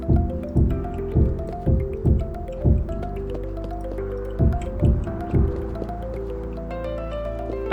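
Corrupted water in the Creativerse video game drips in a string of wet, squishy plops, some doubled, at an irregular pace over a soft background hum, with no voices.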